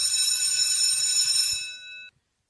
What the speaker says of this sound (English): There's the bell here on the spin.